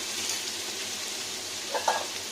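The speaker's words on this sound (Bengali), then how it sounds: "আলু তো ভাজা ভাজা যাবে।" Potatoes fry in a pan for a gourd and poppy-seed vegetarian dish, a steady broadband sizzle with a few brief louder crackles and stirring sounds near the end, no talking.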